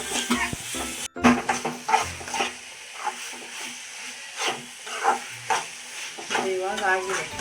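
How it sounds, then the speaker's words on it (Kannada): Bread frying in hot ghee in a pan, with soft sizzling and irregular scraping stir strokes in short bursts and a brief cut near the start. "ಇದು ಫ್ರೈ ಆಗಂಟ"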